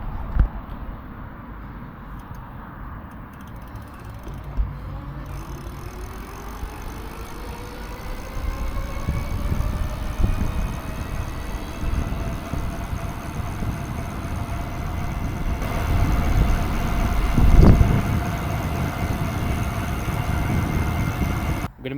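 A Touroll J1 e-bike pulling away on throttle alone, its motor whine climbing steadily in pitch as speed builds, under growing wind and road rumble that swell toward the end.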